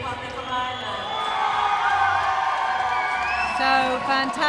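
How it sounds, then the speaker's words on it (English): Fans in a netball arena cheer for the Republic of Ireland at an under-17 European match, a dense swelling roar of voices with high whoops and shouts rising toward the end. "And an equal cheer for the Republic of Ireland."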